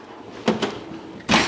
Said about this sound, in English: Let's go down to the wrench drawer.